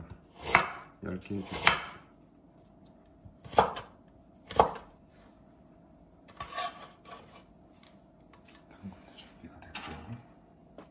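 A knife julienning a hard carrot on a cutting board for a summer pasta salad. Sharp, scattered chopping strokes come in small bursts with pauses between them, close and fairly quiet, while a person speaks briefly.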